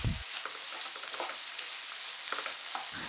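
Four medium onions with salt being sautéed for a country chicken curry, a steady close sizzle with occasional soft spatula scrapes running throughout, no voices.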